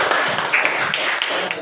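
Brief burst of classroom applause for a student, scattered hand claps close by and fairly loud, lasting just over a second.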